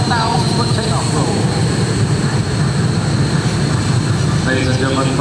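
An F-16 Fighting Falcon jet roars through its takeoff roll at an airshow, a loud, steady, broadband thrust that fills the whole stretch, with an announcer's voice faintly beneath.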